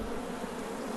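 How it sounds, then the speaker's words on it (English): A dense swarm of bees buzzing around exposed honeycomb in a hive being opened, a steady close hum. "we got a lot of comb and a lot of bees"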